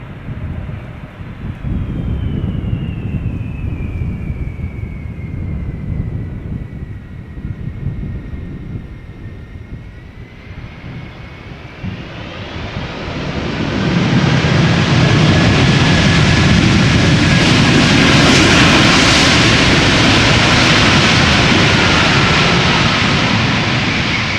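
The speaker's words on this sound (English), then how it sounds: "Delta Airlines flight 164 arriving from Minneapolis, Minnesota" A jet engine roar swells from a distant drone into a loud, sustained rush as a Delta Air Lines airliner passes close overhead landing at Schiphol, with wind buffeting throughout.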